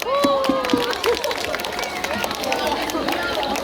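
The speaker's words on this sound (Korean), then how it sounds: "활약 보여준 4학의 친구들에게 다시 한번 큰 박수 부탁드립니다" A crowd applauds fourth-grade performers at a school stage show, with scattered clapping mixed with children's whoops, cheering and lively chatter.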